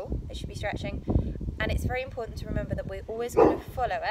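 A pet dog barks in the room during a stretching warm-up, its yips and bow-wows mixed in under a woman's steady spoken instructions.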